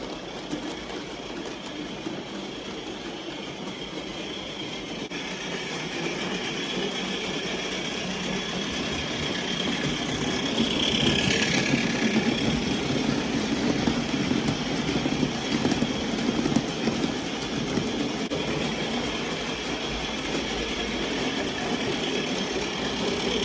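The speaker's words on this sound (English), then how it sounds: "how exciting to see the steam engine running today" A steady, rumbling engine drone runs throughout from a live steam Regner geared Lumberjack locomotive, with a faint rhythmic mechanical chugging and no voices.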